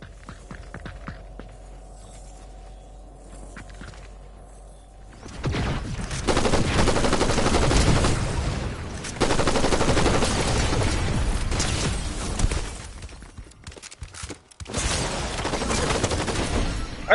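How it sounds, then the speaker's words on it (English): Gunfire in a Fortnite squads match, including shotgun blasts, with dense bursts and rapid volleys of shots, booms and footsteps after a quieter opening, loud and continuous. "I'm shooting you in your head, and then I swap to my shotgun and still shoot"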